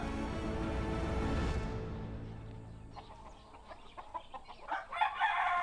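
A Thai fighting rooster lets out a long, loud crow close by that fades into a quieter stretch of scattered clucks and scuffling.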